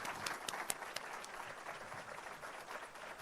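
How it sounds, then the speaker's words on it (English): A round of applause from the audience at a community address event, steady clapping filling the hall for several seconds, loud at first and then easing slightly. "A round of applause."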